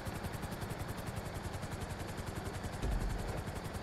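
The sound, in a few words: helicopter in video game Grand Theft Auto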